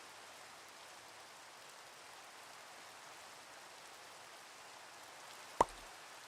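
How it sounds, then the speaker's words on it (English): Steady rain falls in the Minecraft video game as a soft, even wash of hiss that never lets up, with one sharp click near the end. "Man, I wish it would stop raining."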